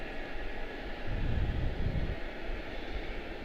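Airbus A321neo airliner at Charlotte-Douglas airport, heard as a steady broadband engine roar that swells slightly in the middle as it passes at a moderate distance, with no voices.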